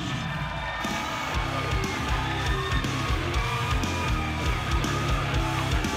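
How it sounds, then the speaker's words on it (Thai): Crowd at a Muay Thai Super Champ fight in Thailand claps and cheers loudly for a 32-year-old Buriram fighter, a dense roar with whoops and shouts that builds in after a brief lull and holds steady. "ขอเสียงปรบมือให้เสือดำคงสิทธา"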